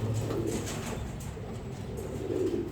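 Caged pigeons coo steadily in low, soft, overlapping calls while feeding their chicks, a close continuous murmur with no talking.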